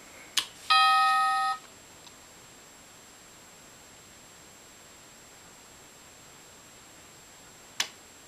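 A wireless motion alarm chime sounds once near the start, a short bright electronic tone set off by a hand waved at the sensor, followed by near silence with a faint hiss and a brief click near the end.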